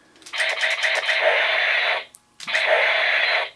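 Electronic sound effect from a battery-powered Kyoryuger Gaburevolver toy pistol: a bright, buzzy burst with rapid rattling pulses, a short gap, then a second similar burst, loud and close with no talking.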